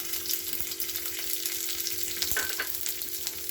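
Mustard seeds and garlic sizzle steadily in hot oil in a home kitchen, a continuous close frying hiss with a few small pops and stirring sounds, no voices.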